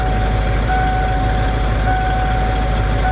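A car engine idles steadily after a fuel pump repair, a loud, even, continuous hum with a constant low drone and faint whine throughout, with no voices.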